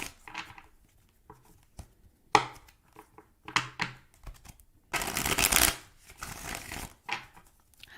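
Tarot cards being shuffled by hand in a quiet room, heard as short, papery riffling bursts separated by brief pauses, with one longer, louder riffle near the middle and no talking.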